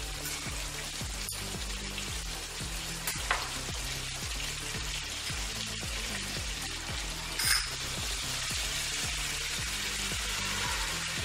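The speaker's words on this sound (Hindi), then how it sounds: "बटर में हम इसे अच्छे से चला लेंगे, सेकना है इसे हमें।" Flour roasting in melted butter and oil for a vegetable lasagna sauce gives a steady, close sizzle throughout, with regular soft scraping strokes of stirring repeating about once a second.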